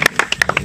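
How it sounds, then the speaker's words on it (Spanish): Scattered hand claps from an audience at a rap battle, a handful of sharp, uneven claps in quick succession, close and fairly loud. "¡Aplauso, muchachos!"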